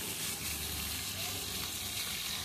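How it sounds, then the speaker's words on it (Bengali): Snakehead fish frying in hot oil, turned over on both sides until browned, gives a steady, close sizzle and crackle that fills the short stretch without a break. "মাছটাকে এপিট ওপিট করে ভালো করে লাল করে ভেজে নেব।"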